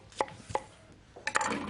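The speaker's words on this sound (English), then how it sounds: "chop a few of those as well" A knife roughly chops onions on a board for a Kapitan chicken curry in a TV studio kitchen: a few crisp, close chops, then a quick cluster of cuts and clatter.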